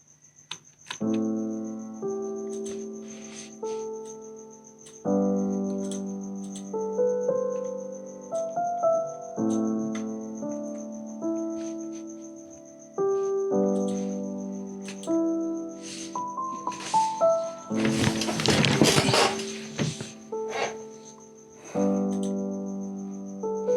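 Keyscape virtual piano playing sustained deep house chords with a cinematic feel, warm layered chords changing every few seconds over a faint steady high tone, with a brief noisy swell near the end.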